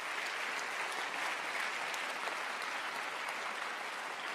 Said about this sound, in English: A round of applause for those 3 student initiatives.